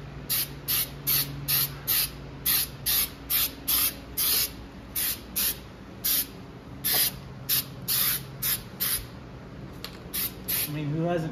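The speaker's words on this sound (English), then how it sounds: "who hasn't painted without a mask?" Short hissing bursts of spray paint from an aerosol can, applied in a car shop without a mask, repeat in quick rhythmic passes, close and fairly loud over a low room hum.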